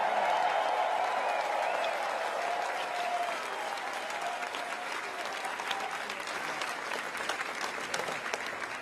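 A big rally crowd applauds law enforcement professionals, a sustained wash of clapping, fairly distant and steady, with faint cheering mixed in.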